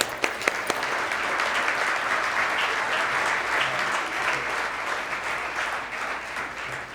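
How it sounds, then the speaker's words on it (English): A lunch audience at a chamber of commerce 50th anniversary gives sustained, dense applause for a speaker being introduced, steady and full throughout with a few sharp claps standing out at the start. "give a big round of applause for Dave"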